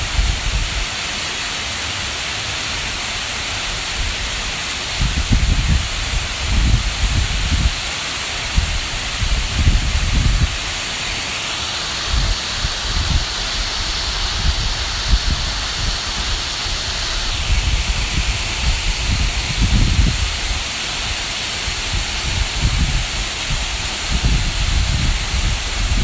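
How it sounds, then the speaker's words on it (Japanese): Yuhi Falls in Minamiashigara, Kanagawa, roars as a steady broadband rush of falling water, constant and fairly close, with bursts of low rumble or wind buffeting underneath. "足柄の夕日の滝に来ています。"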